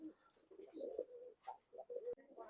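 Teddy pigeons, a Pakistani breed, cooing softly in repeated low, throaty phrases, close but faint, with brief pauses between calls.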